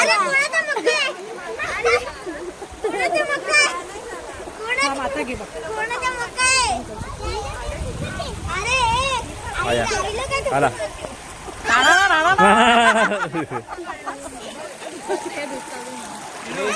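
People play and splash in water at a stream near a trekking spot in Junnar, with children's voices and chatter over continuous flowing water and splashes.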